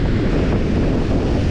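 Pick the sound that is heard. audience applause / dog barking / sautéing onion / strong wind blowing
strong wind blowing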